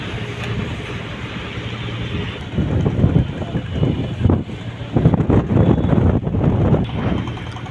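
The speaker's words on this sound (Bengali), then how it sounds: "নদীর বাতাসটা আসলেই মানুষের খুব আনন্দদায়ক" Strong river wind buffets the microphone in steady gusts on a launch deck over a low engine rumble, growing louder and rougher in the second half. No one speaks.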